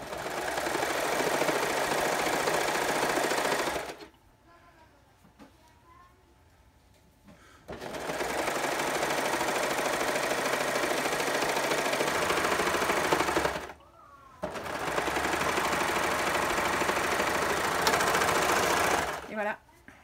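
A sewing machine stitches the seam of a lined knit hat (tuque) in three loud continuous runs, each broken by brief pauses, with no talk over the motor.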